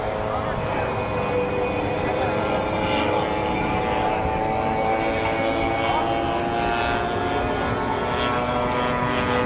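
A single-engine P-47 propeller fighter from World War II drones steadily in a flight simulator, a loud continuous engine hum with a constant pitch throughout.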